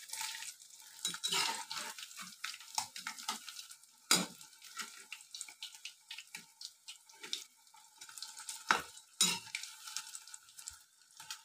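Mandali fish chops frying in oil, a quiet crackling sizzle with irregular spatters and a few louder clanks of a utensil against the pan, close by with no speech.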